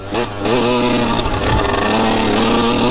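Yamaha YZ125 two-stroke dirt bike ridden hard on a Colorado Rockies mountain trail, its engine screaming near the rev limit with rising and falling pitch as the throttle is held pinned, loud and close throughout.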